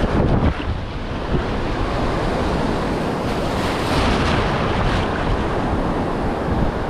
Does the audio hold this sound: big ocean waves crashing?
yes